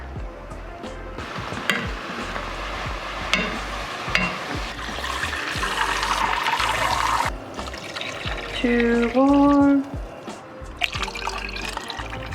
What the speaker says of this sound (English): Fill the pot with water, plain water.